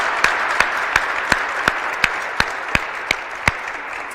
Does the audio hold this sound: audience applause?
yes